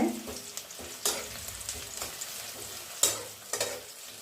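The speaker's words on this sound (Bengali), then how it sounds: "এটা প্রায় ভাজা ভাজা হয়ে যাচ্ছে।" Food frying in a home kitchen pan while dal with sambar is being cooked, a steady low sizzle broken by a few sharp scraping and stirring clicks, close and moderately quiet, with no talking.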